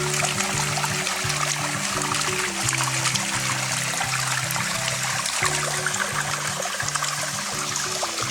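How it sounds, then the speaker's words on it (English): A small stream trickles down a waterfall over rocks, a continuous close wash of splashing water with no pauses and a faint low hum running beneath it. "Little stream here coming down a waterfall on the rocks."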